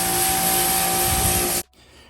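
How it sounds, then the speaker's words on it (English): A pressure washer sprays a Jeep Grand Cherokee to rinse off road salt, giving a loud, continuous close-up hiss that cuts off abruptly after about a second and a half, leaving near silence. "I'm gonna start rinsing this and keep it wet"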